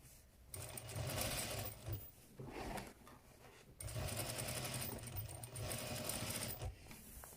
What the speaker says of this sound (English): And you sew around till the end.